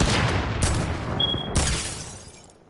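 Gunfire in a shooter video game, a few loud sharp shots ringing out close by, each trailing into a decaying echo, with a brief high whine between them.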